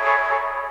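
Synth tone run through Fruity Reverb 2 at full wet in FL Studio: a brief, sustained harmonic pad lasting under a second, washed and smeared, then cut off abruptly.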